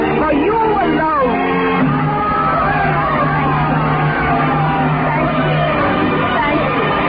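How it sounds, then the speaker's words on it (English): A theatre audience in a radio drama roars with loud, sustained cheering, shouts and whoops, a dense, continuous crowd din that fills the whole stretch. "the full frenzied applause of an audience for you alone"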